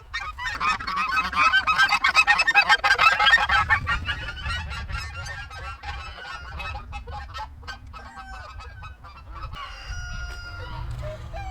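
Ducks let out of their enclosure call out in a loud, dense burst of honking quacks up close, then thinning into scattered separate calls over the rest of the stretch.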